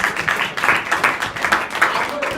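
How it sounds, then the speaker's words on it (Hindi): Students in a school classroom clap together in a steady, moderately loud burst of applause that continues throughout, with scattered voices mixed in. "वेरी गुड, ताली बजाओ।"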